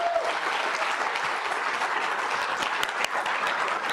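Loud, dense applause from a downtown business forum audience welcoming a speaker, a continuous wash of many clapping hands held at a steady level throughout.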